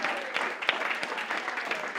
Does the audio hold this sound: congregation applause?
yes